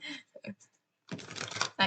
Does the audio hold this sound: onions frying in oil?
no